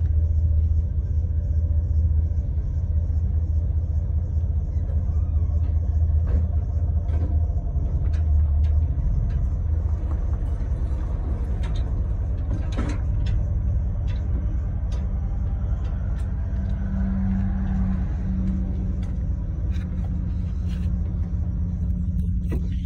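A pickup truck pulling a heavy dumpster trailer forward gives a loud, steady low engine rumble close by, with faint clanks and creaks on top for the whole stretch.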